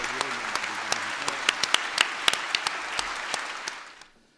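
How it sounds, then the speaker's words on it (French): An audience claps at a municipal arrondissement council meeting, dense sharp applause with distinct individual claps that carries on for several seconds, then fades quickly to silence. "je vous propose de les applaudir encore une fois"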